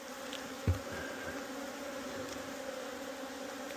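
Honey bees buzz steadily around wooden hive boxes at an apiary, a faint continuous drone with a few closer passes and a soft thump, no voices.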